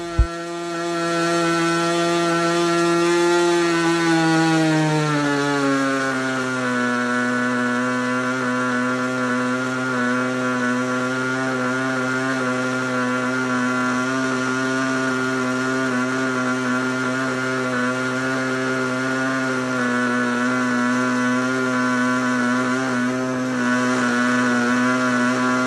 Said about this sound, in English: We're just going to keep it running very rich, since this is a ringed engine